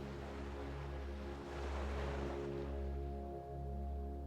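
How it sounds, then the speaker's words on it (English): Sea waves roll in near the shore of the Gili Islands, a steady wash of surf that swells and ebbs in slow surges, with a low rumble and wind underneath. "heard the rolling of the waves not far from your chalet"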